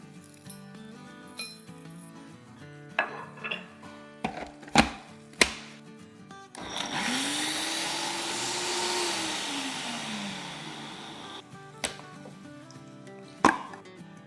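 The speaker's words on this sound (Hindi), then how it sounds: "तो ये सारी चीज़ों को हम ग्राइंड कर लेंगे।" An electric grinder whirs for about five seconds, pulverizing whole spices such as nutmeg, cloves, white cumin and black cumin for nihari masala. Its steady whine rises and then sags, framed by scattered clinks and taps of handling before and after.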